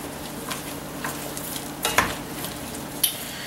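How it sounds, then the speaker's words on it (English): About a pound of sliced mushrooms sizzles loudly in a pan for grillades, a steady frying hiss with a few sharp stirring scrapes and clinks over it, no talking. "I'm going to put in some mushrooms. I've got just about a pound of sliced mushrooms."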